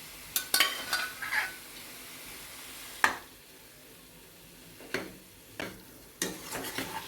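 Pork and boiled potatoes fry in a pan with a low background sizzle, broken by several sharp scraping clacks of a utensil stirring at irregular intervals.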